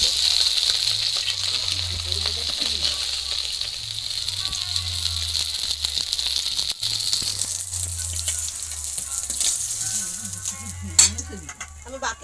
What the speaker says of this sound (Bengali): এই মাছগুলো ভাজা হয়ে গেছে এবার তুলে নেব দেখুন পুরো একদম লাল করে ভেজে নিয়েছি